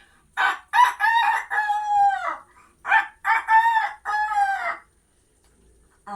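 A human voice imitates a rooster crowing, two long cock-a-doodle-doo calls in a row, close and loud, with silence between and after.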